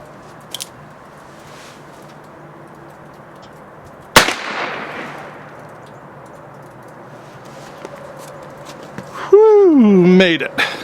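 A single loud, sharp shot from a Spiller & Burr cap and ball revolver fired over a chronograph, the report decaying over about a second, followed later by a brief rising-and-falling tonal sound.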